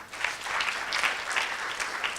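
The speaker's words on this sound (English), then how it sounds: "Could we clap for Mrusha, please?" Applause from an audience at a fireside chat and panel discussion, a brief wash of many hands clapping at medium distance, steady and fairly soft, with no one talking over it.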